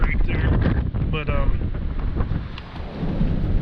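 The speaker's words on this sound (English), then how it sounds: "It's windy as hell out still." Strong wind roars and buffets a microphone outdoors in snowy, stormy weather, a steady broadband rush with gusts rising and falling throughout, with a voice talking over it early on.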